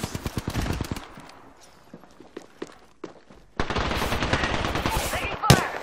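Apex Legends gunfire: a quick burst of rapid shots, then scattered single reports, then a loud, sustained volley of close automatic fire ending in one sharp, heavy bang.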